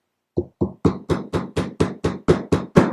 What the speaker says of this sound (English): You can hammer it a little bit